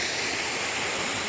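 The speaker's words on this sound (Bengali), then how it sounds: "এই হচ্ছে দুধধারা ওয়াটারফলস।" Dudhdhara waterfall on the Narmada river at Amarkantak pours in a dense, steady roar of rushing water, close and loud with no voices.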